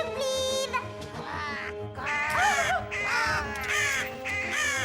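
Crows caw harshly in an animated adventure series, several raucous calls overlapping in quick succession, loud and close over a soft background score, with no voices.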